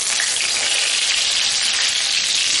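Curry leaves frying in hot coconut oil, a loud, continuous bright sizzle heard up close with no talking.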